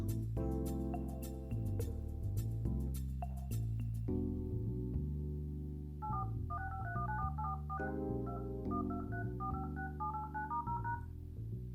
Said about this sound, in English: Let's have a quick look in the phone dialer.